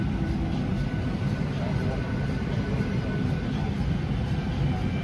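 A steady, broadband roar of airplane cabin noise fills a nearly empty passenger jet on a flight from Melbourne to Cairns, constant and fairly loud, with speech heard over it.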